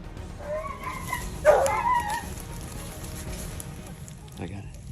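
Hunting dogs during a wild boar hunt in Queensland give a few yips and whimpering barks at mid distance. Outdoor noise runs underneath, and someone speaks briefly.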